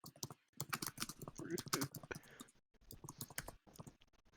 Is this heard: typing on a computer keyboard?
yes